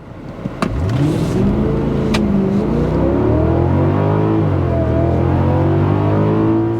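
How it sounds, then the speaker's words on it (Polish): A Mercedes car engine revs up sharply and accelerates hard from 0 to 100 km/h, its pitch climbing through the gears in a loud, close, sustained roar. "jak takie auto przyspiesza od 0 do 100 na godzinę"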